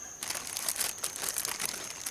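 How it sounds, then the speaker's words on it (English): A plastic bag crinkles and rustles up close as items are packed into it to keep them dry, in irregular bursts of crumpling for about two seconds. "I'll put all this stuff into this plastic bag so that it stays dry while I'm doing all this filming."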